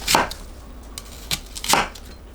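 A knife cuts through an onion on a cutting board, producing three crisp, close chopping thuds at irregular intervals with small taps between them.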